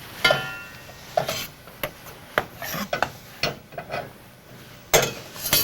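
Mushrooms sauteing in whole butter over low heat in a pan, with soft sizzling and irregular stirring and scraping clatters, close and fairly quiet, no talking.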